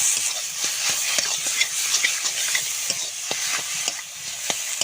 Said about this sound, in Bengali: লবণ, হলুদ গুঁড়ো, সুন্দরভাবে এইভাবে নেড়ে নেড়ে পুরটা তৈরি করে নেব।